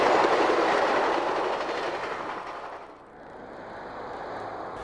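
Burlington Northern Santa Fe model trains roll across an arch bridge by a model waterfall on a club layout, a loud steady clickety-clack rumble that fades as the train passes and gives way to a quieter hiss.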